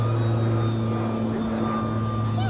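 A steady electric drone comes from an RC model airplane powered by a Turnigy Aero Drive 3542 motor with an 11-inch propeller, holding an even pitch and close throughout.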